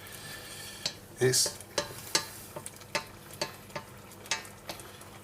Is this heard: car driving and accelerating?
no